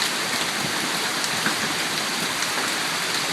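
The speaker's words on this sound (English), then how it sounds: "And it just started hailing like, I don't know," Hail pours down during a summer hailstorm in Mamaroneck, New York, making a dense, steady hiss of pellets striking surfaces nearby, with a few sharper ticks scattered through and no pause.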